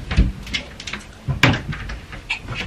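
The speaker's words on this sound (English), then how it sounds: "The opening the double doors here" Wardrobe double doors open with a few clunks and knocks, a sharp bump in the middle and light rattling around it, close and fairly quiet.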